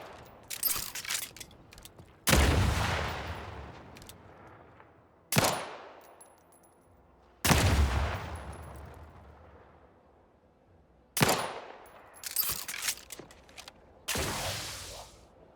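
Gunfire in the video game Outer Worlds 2: several loud, sharp shots with long decaying echoes, fired singly and in quick pairs across the stretch, with no talking over them.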